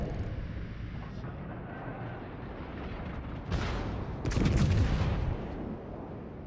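Naval gun salvos from the battleship New Mexico in World of Warships, a continuous low rumble broken by two heavy booming blasts that swell and roll on for a second or so, with no talking.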